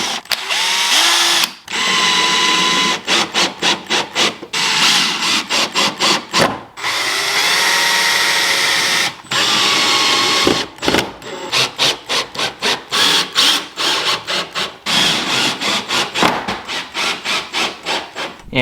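A power drill drives screws to fit carbon fiber side skirts on a Toyota GR86, in loud, close, stop-start whirring bursts of varying length that repeat rapidly, with short pauses between them and no voices.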